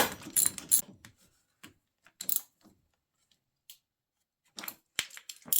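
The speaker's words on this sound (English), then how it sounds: "Grab my ratchet. and snug these up." A hand ratchet snugging down battery terminal nuts on a heavy hauler during a work light and light bar install gives several short, sharp metallic clicking bursts separated by quiet gaps, close and fairly faint.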